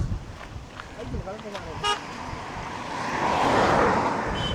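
A speeding car rushes past on a road in the Mathagal area, its whoosh swelling loud and close before fading, with a short horn-like toot partway through and people talking over the passing vehicle.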